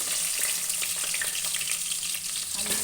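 Chopped potatoes fry in hot oil with whole cumin seeds in a wok, giving a steady, close sizzle that holds throughout with faint crackles.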